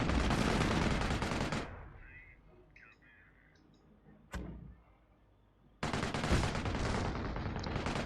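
Dense, loud video game gunfire with machine-gun and mortar fire roars in a sustained barrage, breaks into a quieter gap with a single sharp crack, then bursts back in at full intensity.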